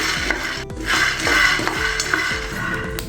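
Dry chana dal rattles and scrapes in a hot pan as it is roasted and stirred, with a steady light crackle and rhythmic scraping strokes.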